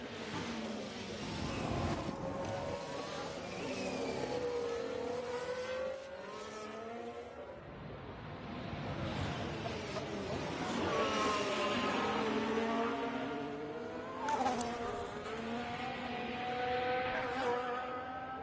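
Formula 1 cars lap the Catalunya circuit in F1 Manager 24, high engine whines rising and falling through gear changes as cars pass one after another, steady and fairly loud throughout.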